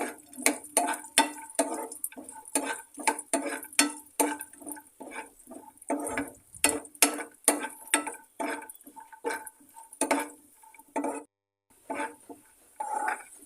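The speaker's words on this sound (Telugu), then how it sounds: "ఇప్పుడు అదే ప్యాన్లో జీడిపప్పు బాదం పప్పు కిస్మిస్ వేసి ఎర్రగా వేయించుకోవాలి" Cashews, almonds and raisins are stirred and roasted in a pan, giving a steady run of clattering spoon-on-metal scrapes and taps, close and fairly loud, with brief pauses between strokes.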